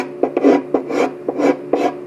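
A scraper working across the wooden top of a violin during refinishing makes four rhythmic rasping strokes, each a close, dry, scratchy pull with a short click at its start.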